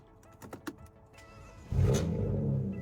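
A few clicks and a starter whir, then a BMW E92 335i's N54 engine catches and rises into a loud, steady rev that holds to the end.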